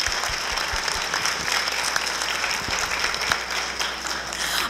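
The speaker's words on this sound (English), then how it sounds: "Let's give another round of applause to our National Honor Society and Honor Club members." Audience at a National Honor Society and Honor Club induction ceremony at English High School applauding, a dense steady wash of clapping from many hands in a large room, loud and sustained with a few sharper near claps.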